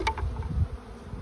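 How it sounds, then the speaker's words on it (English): Honeybees buzz inside an open hive during a spring inspection, a steady low insect drone close to the microphone with a brief louder swell near the start. "You're always listening for how the bees react to your presence inside the hive."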